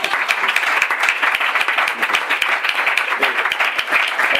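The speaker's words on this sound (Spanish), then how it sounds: "Bueno, un aplauso" Audience at a Spanish-language talk breaks into applause, a steady crackle of many hands clapping with sharp individual claps standing out, sustained and fairly close.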